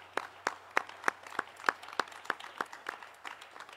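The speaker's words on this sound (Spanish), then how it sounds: "Aplaudamos un poquito a todos." Audience applause in a theatre, sparse and rhythmic, with single claps landing at an even beat and a faint hum underneath.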